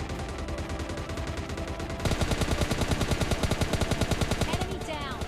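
Rapid automatic gunfire in a squad-based shooter video game, starting as a muffled burst then turning into a loud, sustained stream of evenly spaced shots up close, with a brief high whistling effect near the end.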